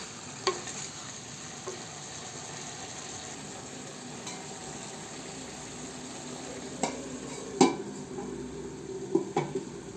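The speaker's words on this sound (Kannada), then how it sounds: "ಇದ್ರ ಮೇಲೆ ಒಂದು ಪ್ಲೇಟ್ ಮುಚ್ಚಿಬಿಟ್ಟು ಒಂದು ಸ್ವಲ್ಪ ಕುದಿಯೋಕ್ಕೆ ಬಿಡೋಣ" Chicken curry mixture simmering in a covered mud pot, a soft steady bubbling hiss with a few sharp clinks of utensils and lid near the end, with no voices.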